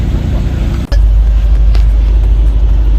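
BMW M5 Competition on a hot lap of the VIR Patriot Course, its engine a loud, steady low rumble that briefly dips near the start, then swells back to a sustained roar.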